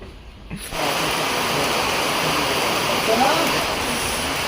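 Rain falls at a railway station as a train arrives, a loud, steady hiss that swells in after a brief quieter start and continues without a break.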